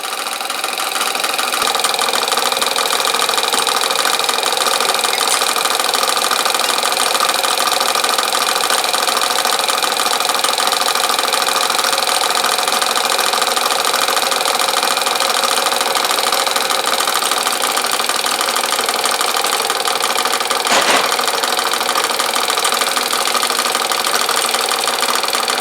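An enlarged Mamod model steam workshop, gas-fired and driven by a Mech 2014 engine with extra pressure, runs continuously with a fast, even mechanical chatter and whirring line shafting, loud and close, with a brief knock near the end.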